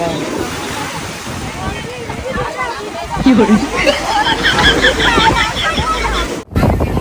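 Sea waves wash steadily at Girgaon Chowpatty beach, with wind buffeting the microphone and a crowd's babble mixed in. The surf swells louder in the second half before a brief dropout near the end.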